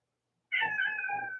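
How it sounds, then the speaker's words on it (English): A pet cat that wants to go outside lets out a single drawn-out meow, close and fairly loud, rising then trailing off after a moment of silence. "Meow."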